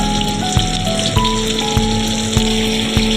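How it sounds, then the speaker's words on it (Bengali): Cubed potatoes fry in oil alongside pointed gourd, a continuous close sizzle and crackle under a steady tonal hum, with small regular taps roughly every half second. "এবার পটলের মতো আলুগুলোকেও একটু ভাজা ভাজা করে নেব পটলের সাথে"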